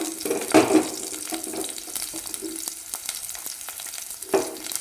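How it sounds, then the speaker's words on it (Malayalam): Shallots and garlic fry in hot oil after mustard seeds have popped, with a soft steady sizzle, a few stirring clatters near the start and end, and close, moderate loudness. "കടുക് പൊട്ടി വന്നതിന് ശേഷം ചുവന്നുള്ളിയും വെളുത്തുള്ളിയും ആഡ് ചെയ്യുക"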